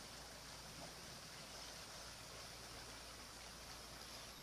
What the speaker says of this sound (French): C'est pas charmant, ces petits bruits de rivière.